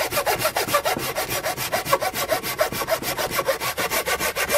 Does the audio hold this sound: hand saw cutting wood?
yes